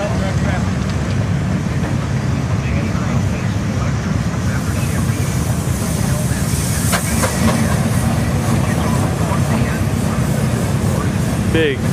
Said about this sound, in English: Big, powerful engine.